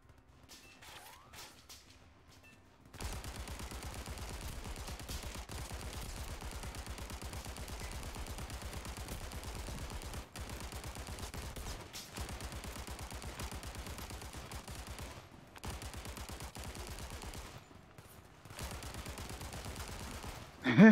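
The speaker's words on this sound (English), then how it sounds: "I'm going to get on the big gun." A big mounted machine gun in the VR shooter Zero Caliber fires rapid, loud, sustained bursts for most of the stretch. Brief pauses break the firing, and a quieter lead-in comes before the first burst.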